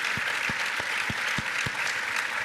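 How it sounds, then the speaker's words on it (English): An audience gives a round of applause for panelists at a Department of the Air Force panel event, a dense, steady clapping that stays even and fairly full throughout. "let's give our panelists a great round of applause"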